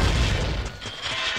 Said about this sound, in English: that's why I tossed the bomb